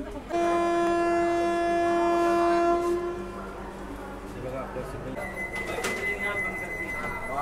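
A Vande Bharat express train on the Ajani (Nagpur) to Pune route, with a loud sustained horn-like tone early on, then steady rolling rail noise and rumble carrying on under background voices.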